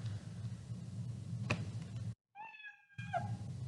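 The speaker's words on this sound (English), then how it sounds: "When flag is clicked, I want the cat to cry meow." A brief cartoonish cat meow sound effect from Scratch programming rings out once, clean and close, after a sudden drop in background hiss; a faint tick sounds earlier.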